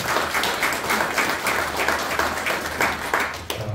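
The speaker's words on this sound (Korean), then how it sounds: "박수 한번 부탁드립니다." Applause from attendees at a year-end general assembly and party of a veterans' environmental association, steady moderate clapping with a rhythmic pulse, somewhat distant and even throughout.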